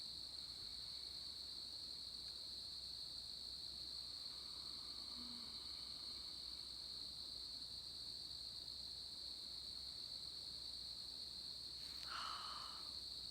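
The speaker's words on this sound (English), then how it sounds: "there's like all sorts of little creatures and bugs and all sorts of wonderful things just making that beautiful noise in the morning" Insects chirping outdoors in the morning, a constant high, shrill drone that holds steady and faint throughout, with a brief extra chirp near the end.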